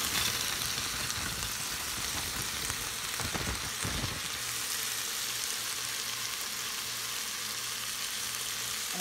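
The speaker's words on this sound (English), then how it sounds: "So now I'm just going to add my cabbage into my peppers." Cabbage dropping into a pot of hot peppers, giving a burst of clatter and a rising sizzle that settles into steady, loud frying hiss with a low bubbling undertone.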